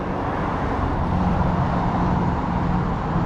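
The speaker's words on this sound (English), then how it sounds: "Sorry about all the traffic noise." Continuous roadway traffic noise, a dense steady rumble of passing cars and heavier vehicles, fills the background around an auto body shop working on a Porsche Boxster, with no pauses or distinct single passes.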